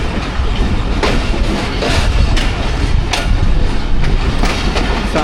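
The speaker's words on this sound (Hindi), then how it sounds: "खूबसूरत कर लेते हुए ट्रेन हमारी मेन लाइन पे डाइवर्ट हो रही है।" The Pakistan Express, running Rawalpindi to Wazirabad on a rainy early morning, diverts onto the main line, with loud, steady clickety-clack of wheels over points and a constant rumble heard from aboard.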